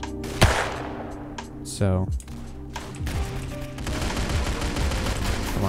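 Gunfire in the Roblox game Arsenal: sharp shots and quick bursts crack out close by, mixed with clicky game sounds, while a voice talks over part of it.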